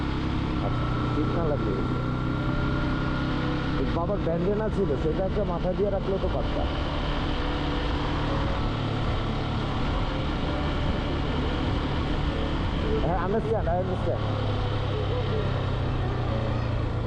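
A Yamaha motorcycle ridden slowly on a road near Bhola in Bangladesh gives a steady, close engine drone with occasional buffeting, heard beneath people talking throughout.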